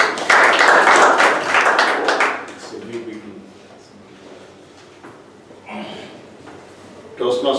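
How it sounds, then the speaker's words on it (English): A Toastmasters meeting audience gives a round of applause, loud dense clapping for the first two seconds that fades into a quieter room with scattered sounds and a brief late burst. "So give him a big round of applause."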